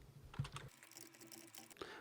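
Keys on a computer keyboard clatter in quick, irregular taps, faint and close, with no speech over them.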